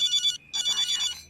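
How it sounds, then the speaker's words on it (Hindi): A telephone ringtone trills in two bursts with a short gap between, electronic and fairly close, with no voices. "तुम फोन क्यों नहीं उठा रहे हो?"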